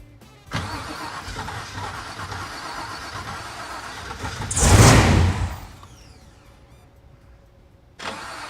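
A 1970 Chevelle, a SEMA build with a freshly replaced fuel hose, cranks with a whirring starter, fires into a loud burst of revs, then drops to a low rumbling idle before another crank near the end.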